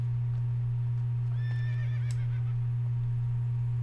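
A horse in Assassin's Creed: Brotherhood lets out a single high, wavering neigh, fairly clear over a loud steady low hum.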